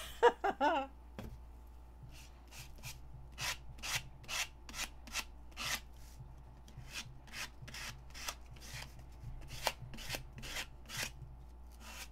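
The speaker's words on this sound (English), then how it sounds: "I'll scrape it on with a card and see what happens." A card scrapes gesso across a painting surface, producing a series of short rasping strokes in an uneven rhythm, close and fairly quiet over a low steady hum.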